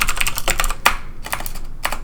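Quiet typing on a computer keyboard during Minecraft Forge 1.9.4 mod coding, with irregular, close keystrokes in small clusters and brief pauses, and no voice.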